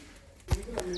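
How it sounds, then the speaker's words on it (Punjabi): A crow perched in a jamun tree gives a single short, harsh call, close by and clear over a faint outdoor background. "ਜਾਮਣ ਤੇ ਬੈਠਾ ਕਾਂ ਬੋਲ ਰਿਹਾ"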